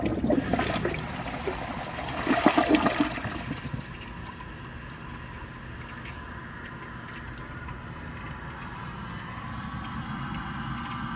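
An AquaSource one-piece toilet flushes with a loud rushing surge of water for a few seconds, then settles into a long, quiet trickle as the bowl refills.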